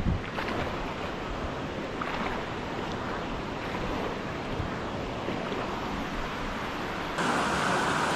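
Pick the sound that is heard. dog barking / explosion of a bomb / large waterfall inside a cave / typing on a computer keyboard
large waterfall inside a cave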